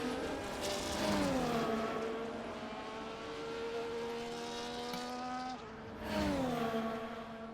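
McLaren race car in a racing video game at the Hungary circuit, engine droning loud and near with rising and falling revs through gear changes, a sharp shift near the end.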